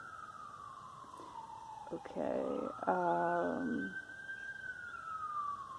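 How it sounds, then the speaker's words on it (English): A police siren wails in the distance on a New York City street, its long rising and falling tone sweeping steadily beneath a brief spoken word and other street noise. "can you hear those police cars in the distance?"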